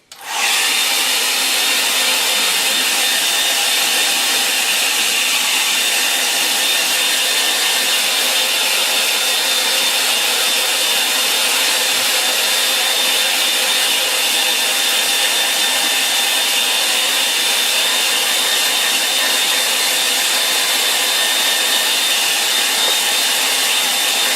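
Hair dryer blowing steadily on a watercolour line-and-wash painting, a loud constant whooshing whine that starts abruptly and runs unbroken with no talk.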